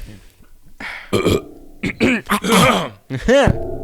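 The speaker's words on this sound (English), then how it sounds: "that was like a burp puke that came out of my body" A loud, drawn-out burp rumbles up amid groaning vocal noises and throat sounds, close to the mic.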